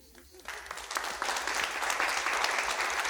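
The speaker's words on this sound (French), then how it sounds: "on peut l'applaudir" A festival audience breaks into applause for a young female singer at an outdoor summer evening event in the Alpes-Maritimes, the clapping building from a light start into a dense, sustained wash of many hands.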